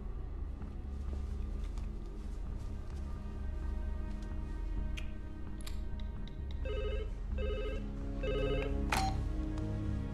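A telephone rings in short repeated bursts over a low steady background hum, with several electronic trills near the end.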